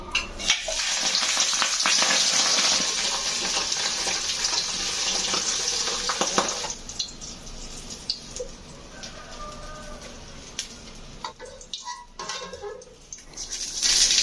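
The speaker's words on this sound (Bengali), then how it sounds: "জিরে দিলাম, শুকনো মরিচ দিলাম, পেঁয়াজ কুচি, পেঁয়াজগুলো বাদামি করে ভেজে নিছি" Chopped onions fry in hot oil with cumin seeds and dried chillies for a Bengali taro and tangra fish curry, a loud dense sizzle that eases into softer crackling and scraping stirs near the end.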